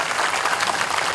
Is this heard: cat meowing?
no